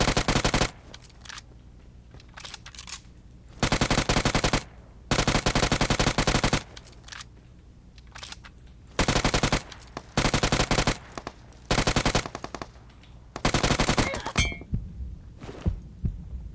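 Submachine gun fire in a shooter video game comes in loud repeated bursts of rapid shots, separated by short quiet pauses, alone without talk.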